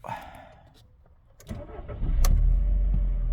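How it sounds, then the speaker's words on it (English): A 2010 Volkswagen Beetle engine cranks and catches with a quick starter burst, then settles into a steady, close, loud idle rumble with no talk. "start the car"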